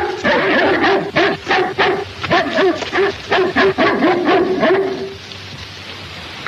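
A dog in a Spanish-language film of The Call of the Wild gives a run of quick, close barks and high yips in bursts for about five seconds, then falls quiet.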